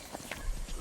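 Horse hooves clip-clop as a rider heads back to town in a video game, a few quick soft hoofbeats under ambient noise.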